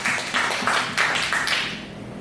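Audience applause fills a live theatre performance of Bootycandy, a dense wash of many hands clapping in swelling bursts that fade toward the end.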